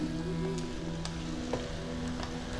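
Fried lentil dumplings (bori) are added to vegetables sizzling in a pan for a Bengali pumpkin-leaf ghonto, giving a steady, moderate frying hiss with a few soft clinks and stirs.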